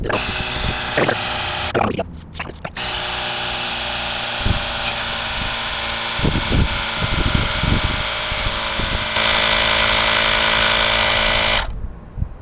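A steady, loud mechanical buzz of a Vogma portable tire inflator filling an empty motorcycle tire runs continuously, with brief clicks and knocks, then cuts off near the end at 20 PSI.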